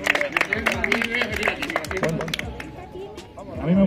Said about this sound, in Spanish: Un aplauso para Panda